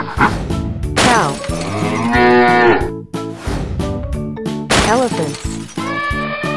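A loud, drawn-out cow moo sounds close and stretched, then returns after a short break as a second long bellowing call, with a busy, layered background throughout.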